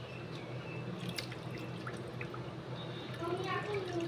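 Soaking water being drained off sago pearls during washing in a home kitchen, a steady trickling pour with faint drips running throughout, while a voice talks under it.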